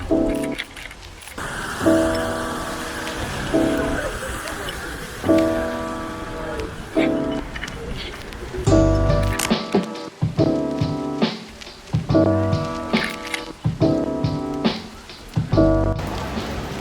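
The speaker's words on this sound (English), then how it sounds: "Once again, it's raining while I'm making this video." Steady rain falling outdoors, a continuous wash of patter and drops on surfaces with faint tapping, with music playing over it throughout.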